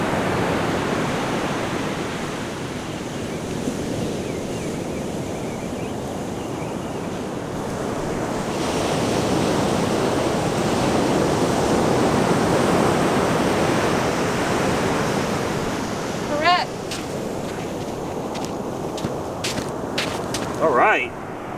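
Ocean surf washing onto a beach, a steady loud rushing wash with swelling waves and some wind, plus a few faint clicks and splashes near the end.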